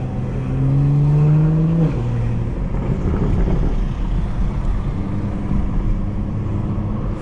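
A 500HP BMW 440i engine revs hard and loud up close, its pitch climbing then dropping at a shift, followed by a steady rough drone; distinct pops and bangs are not clearly separated.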